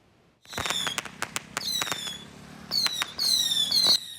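Firecrackers go off at a celebration for the reopening of the Mataian Creek temporary road in Hualien, Taiwan: a dense string of sharp cracks and pops, with shrill whistling bursts rising near the end.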